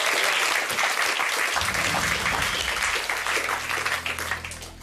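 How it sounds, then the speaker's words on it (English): Studio audience on a television game show giving a subdued round of applause; steady clapping that gradually fades, with a low musical tone rising underneath partway through. "Rather muted applause"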